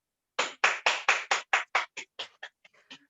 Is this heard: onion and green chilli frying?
no